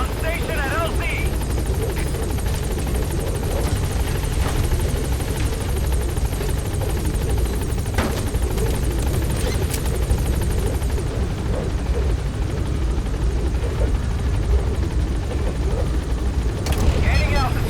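A helicopter in the Metal Gear Solid V video game climbs in altitude, its rotor and engine roar dense, steady and loud throughout, with radio-style voices talking over it.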